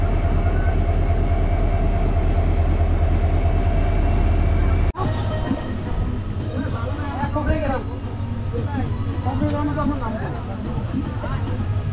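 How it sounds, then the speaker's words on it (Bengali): The Rajya Rani Express pulls out of Golokganj station: a heavy, steady rail rumble that abruptly gives way to lighter carriage rattle with voices chattering nearby. "লোকো রিভার্সের সাথে সাথে আমরা গোলকগঞ্জ ছেড়ে বেরিয়ে যাচ্ছি।"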